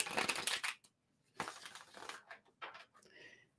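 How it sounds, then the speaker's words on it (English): A deck of sacred geometry cards is shuffled up close, giving quiet crisp bursts of riffling and rustling with short pauses between them. "Let me just do a quick shuffle."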